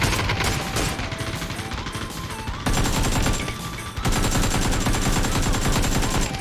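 Rapid PUBG gunfire crackles continuously, dense bursts of shots overlapping with sharp repeated reports and no pauses.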